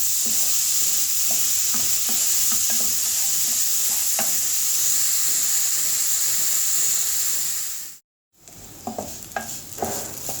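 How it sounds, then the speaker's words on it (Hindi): Fresh ground coconut and semolina roasting in a pan for halwa, with a steady loud sizzle and hiss alongside repeated scraping stirs of the spoon, a brief cut of silence, then more stirring. "अभी देखें नारियल भी थोड़ा सा भुन गया है सूजी के साथ।"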